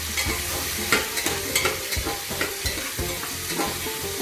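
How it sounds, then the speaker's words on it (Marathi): Chopped tomatoes stirred into frying onions in a pan for green pea rice, rhythmic spatula scrapes and knocks repeating about twice a second over a continuous close sizzle, no talking. "टोमॅटो हलवून घेऊ आपण कांद्यामध्ये"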